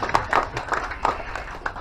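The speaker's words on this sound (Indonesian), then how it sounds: "tepuk tangan dulu" A small crowd at a store and coffee shop launch in Tembuku, Bangli gives a faint, scattered round of hand claps, uneven and sparse rather than a full ovation.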